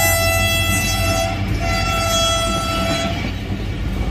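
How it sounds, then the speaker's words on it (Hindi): A train runs through a station without stopping, a loud steady rumble with long sustained horn tones sounding over it, close by and continuous. "ये ट्रेन यहाँ पर नहीं रुक रही है"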